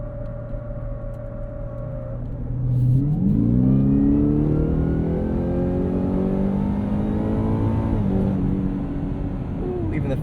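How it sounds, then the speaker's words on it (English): Supercharged 720 hp V8 of a 2024 Ford F-150 Raptor R accelerating hard on a commute, a rising engine note with supercharger whine climbing through the gears, heard from inside the cabin. "You can hear that supercharger."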